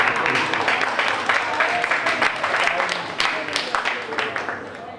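Audience applause at a press conference, dense rapid clapping from a roomful of people that stays steady and close for several seconds and eases off slightly toward the end.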